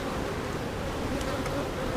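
A colony of honey bees hums with a steady, dense buzz from many insects around a hive during swarm work, droning close and unbroken from start to finish.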